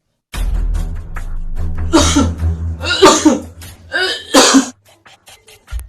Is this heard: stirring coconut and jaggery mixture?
no